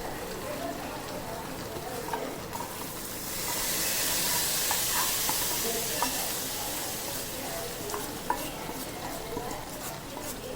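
A hot tempering is poured into simmering tamarind kuzhambu, setting off a sudden burst of loud hissing and spitting that swells, lingers a few seconds, then settles back into a quieter bubbling sizzle; no one speaks.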